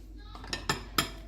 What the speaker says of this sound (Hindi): अब मैं पहले चाट को मिक्स करूँगी।